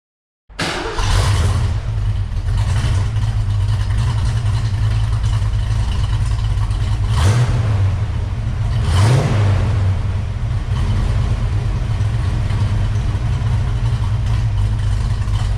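A Foxbody Mustang with a Saleen exhaust starts and settles into a deep, throaty idle, with two short revs blipping up partway through, loud and close to the exhaust.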